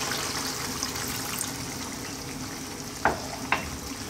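Lamb curry (methi gosht) sizzles steadily in a pan over high heat, with a splash as water is poured in and two short hissing bursts near the end.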